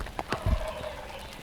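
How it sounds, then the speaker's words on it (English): A wild turkey gobbles once in a rapid, rattling burst at some distance on Tennessee public land in the evening, followed by faint outdoor ambience. "He's got a heck of a gobble on him, doesn't he?"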